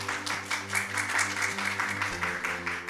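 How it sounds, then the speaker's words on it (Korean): An audience applauds at a publishing-industry forum on book marketing trends: steady, dense clapping from a crowd that holds at an even level for about three seconds, with a low electrical hum underneath. "큰 박수 부탁드리겠습니다."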